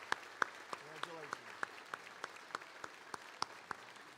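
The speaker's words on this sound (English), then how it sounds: "let's give a big round of applause" At a high school class night ceremony, faint, evenly spaced claps ring out in a steady rhythm, with a voice briefly speaking beneath them.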